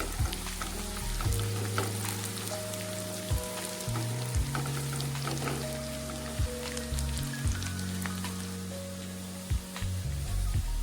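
Ingredients for Kolkata-style Bengali mutton kosha frying lightly in a pan, a steady close sizzle with soft crackles and occasional stirring scrapes, with no talking.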